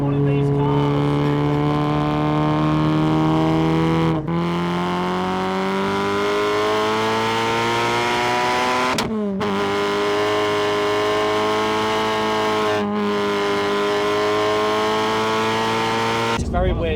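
Supercharged Renault Clio RS with no sound deadening, running on a mountain road on semi-slick tyres, its engine droning and climbing in pitch through gears, with brief drops at each shift; steady and close, heard from inside the car.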